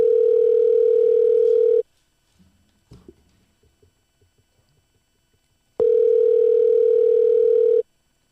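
A steady telephone dial tone hums loudly while a phone call is being placed, cutting off for a few seconds of faint handling clicks and taps before returning just as strong, with nobody talking.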